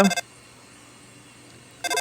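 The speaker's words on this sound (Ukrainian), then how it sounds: "звичайно, дзвонить Альфіс" A synthetic phone ringtone from the game Undertale sounds briefly at the start, falls silent, then resumes at the end, close and bright.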